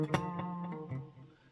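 Electric guitar played through a Positive Grid Spark Mini amp on its rhythm channel, mostly clean with light delay or reverb: a strummed chord followed by a few softer plucked notes ringing out and decaying, with no talking.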